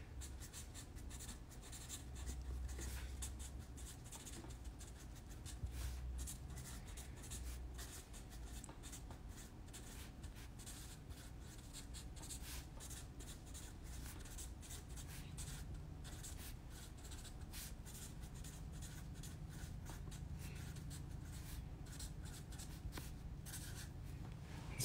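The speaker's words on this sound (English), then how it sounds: "So you guys don't see the notes I'm writing." A pen writes notes on paper in a sewing shop during a live stream, a steady scratching and rubbing that runs continuously and close for the whole stretch over low background hum, with no talking.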